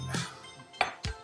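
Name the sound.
scraping browned bits off the bottom of the pan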